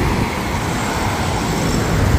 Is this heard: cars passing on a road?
yes